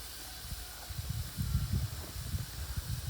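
A garden sprinkler spraying water outdoors gives a soft, steady hiss with faint, uneven pattering as the droplets land, quiet and alone with no talk.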